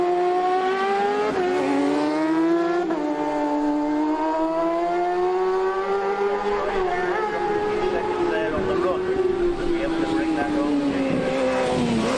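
A race motorcycle at the 2019 Manx Grand Prix Newcomers race screams past, its loud engine note rising and falling continuously with faint voices in the background.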